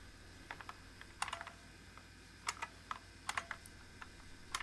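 Quiet, irregular clicking of keys on an old PC keyboard, tapped in short bursts against a soft background hum.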